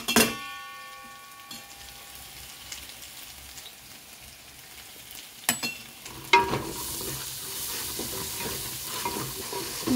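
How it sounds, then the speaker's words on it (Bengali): Spice masala sautéing in a pan gives a steady sizzle, broken by a few sharp scraping knocks from stirring midway. Nobody speaks. "মশলাটা কষানো হয়ে গেছে"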